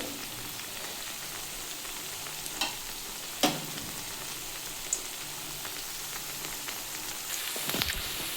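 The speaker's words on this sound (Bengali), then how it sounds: "আমি সাদা তেল কড়াই দিয়ে বড়াগুলো দিয়ে দিয়েছি" Ridge gourd and lentil fritters fry in white oil in a wok, giving a soft, even sizzle at low volume with a few faint pops and clinks.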